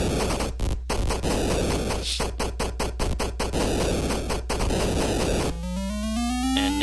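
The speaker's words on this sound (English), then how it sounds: "You can fire a lot of shots at once, and you need it because those spiders move quick" Shots fire rapidly in the Atari 2600 game Spider Fighter as a stream of sharp, buzzy electronic blips over a steady hum, closing with a rising descending synthetic sweep.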